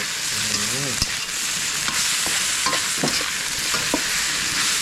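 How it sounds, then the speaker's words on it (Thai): Young galangal stir-frying in a pot, a loud steady sizzle with sharp scrapes and clinks of the utensil against the metal throughout, no voices. "ตามด้วยขาอ่อน เราผัดก่อน"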